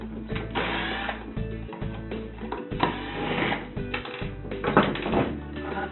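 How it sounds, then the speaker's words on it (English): A #1 square drive bit backs two small screws out of a Jobe valve during a diaphragm service, making close, quiet ratcheting clicks and mechanical whirring in irregular bursts, with no talk. "So I'm just going to take my #1 square drive bit. I'm going to remove those 2 small screws."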